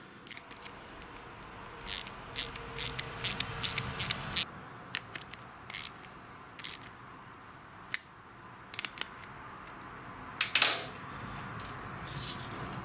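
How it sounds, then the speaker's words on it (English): Socket wrench tightening the nuts on a John Deere lawn tractor starter solenoid, heard as scattered short metallic clicks and ratchet ticks over a low steady hum, close up and with no talking. "go in with a 3/8 socket or wrench and just tighten"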